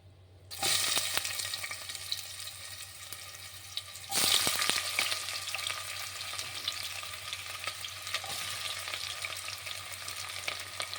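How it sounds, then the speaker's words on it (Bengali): Chopped onions go into hot oil already spiced with cinnamon, cardamom and bay leaf, bursting into a loud steady sizzle, with a second surge of crackling a few seconds later as they are stirred, close up and without talk. "পেঁয়াজ কুচনোগুলো দিয়ে দেবো।"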